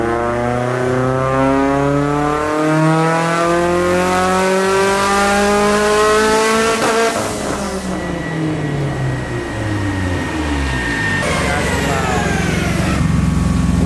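A Mitsubishi Evo engine on a dyno at about three-quarter throttle sweeps up loud and close, holds a high rev, then falls and climbs again, with no talk.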